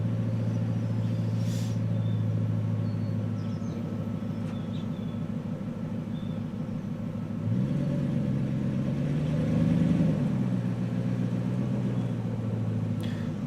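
Ford 5.4 liter Triton V8 in a truck being pulled out of mud, its exhaust rumbling steadily at idle, then rising in a brief throttle blip before settling back to a low drone, with no talk over it.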